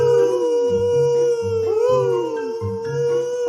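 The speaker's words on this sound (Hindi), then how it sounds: "तभी कुछ लोमड़ी चिल्लाने लगा।" Foxes howl in a cartoon story, with several drawn-out, wavering howls overlapping close and loud, backed by lower yelping calls and no speech.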